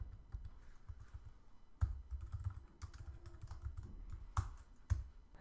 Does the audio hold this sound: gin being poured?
no